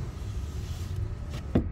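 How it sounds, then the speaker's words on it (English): Power rear window of a 2023 Toyota 4Runner TRD Pro closing, a short quiet motor whir ending in a soft clunk as it seats. "push up on this button right here. That's going to go ahead and bring up this window again."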